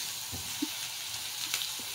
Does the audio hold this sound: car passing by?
no